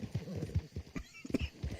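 Horse hooves clip-clop in Red Dead Online, a quick uneven run of close, fairly loud hoofbeats across about two seconds, with some voice-like sound mixed in.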